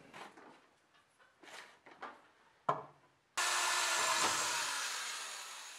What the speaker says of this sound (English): right there I'm going to drill a hole at that X.